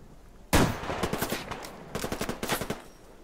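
Rapid bursts of automatic gunfire from the video game Survarium, loud and close, in two volleys of quick repeated shots with a short pause between them, no talking.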